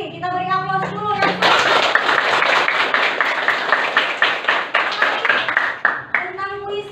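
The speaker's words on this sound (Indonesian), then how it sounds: "Kita beri aplaus dulu ya" A classroom of students applauding a classmate: a burst of many hands clapping, fairly close and dense, tapering into slower rhythmic claps, with a speaking voice just before and after.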